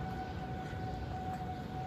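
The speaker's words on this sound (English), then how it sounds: "I believe that is like the third time our tornado sirens have gone off." Tornado sirens sound during stormy weather, with a steady distant wail held throughout over a constant roar of wind and background noise.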